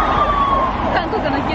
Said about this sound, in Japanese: 韓国の救急車。